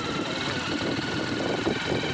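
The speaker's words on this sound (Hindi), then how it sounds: "ये मोदी ने चला लिया बाइक" A motorcycle engine runs steadily while someone rides it for the first time, giving a continuous mid-pitched drone with slight throttle wobble, fairly close, with no talking.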